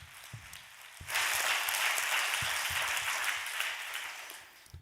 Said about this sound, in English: Why don't we give a big round of applause